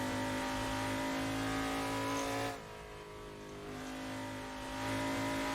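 A car engine revs hard in a racing video game set on the Shutoko Expressway, a loud, steady high-revving drone that drops briefly at a gear change and then climbs again.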